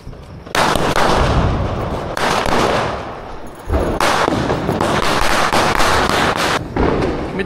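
Loud Diwali firecrackers burst in quick succession, a near, rapid barrage of sharp cracks and booms that runs almost without pause, briefly easing before erupting again.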